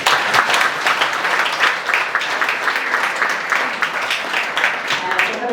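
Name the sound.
audience applause for speaker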